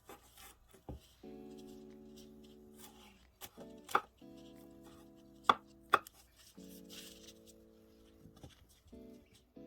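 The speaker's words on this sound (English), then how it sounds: "Finally chop your garlic." Garlic chopped with a knife on a cutting board, a few sharp, close knocks spaced apart over a faint steady hum, no talking.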